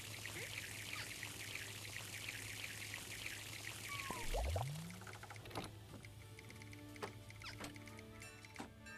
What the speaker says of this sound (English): put some water in the tank